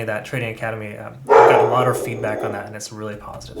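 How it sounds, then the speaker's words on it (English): A dog barks indoors behind someone speaking, a loud burst of barking rising beneath his steady talk. "Sorry for the dog. I think he sees another dog walking by."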